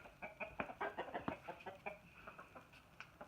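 Hens cluck in a snowy, slushy farmyard, a run of soft repeated clucks and short calls close by, fairly quiet, with no talking.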